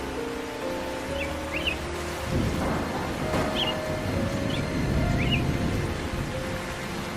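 Steady rain pours throughout, with a low rumble of thunder building midway and a few faint bird chirps above it; no one speaks.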